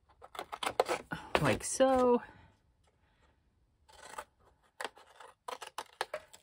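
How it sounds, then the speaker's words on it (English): Scissors snipping through a paper file folder, a burst of close, crisp cuts with a rasping slide, then a pause and more scattered snips, with brief speech early on. "I need to cut out this square here at the bottom"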